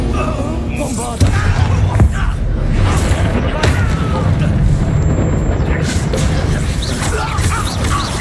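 Bombarda explosion spells in the game Hogwarts Legacy, with repeated heavy booms and crashing blasts over a busy combat soundscape, loud and continuous, with a person talking over it.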